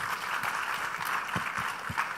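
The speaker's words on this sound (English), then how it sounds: "A round of applause for the panel, please." Applause from a forum audience in Accra, Ghana, for a leadership panel: a steady wash of many hands clapping, moderately loud and continuous, with a few sharper claps standing out near the end.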